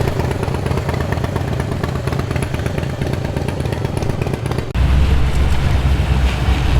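A motorcycle engine runs steadily at an outdoor car show in Sydney, a loud continuous rumble that shifts to a heavier, lower drone partway through, with no talk over it.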